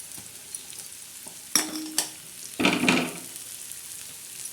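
Ingredients for dried shrimp (sukat) chutney are dry-roasted in a pan until reddish, with a low sizzle under a few sharp spatula scrapes and stirring bursts.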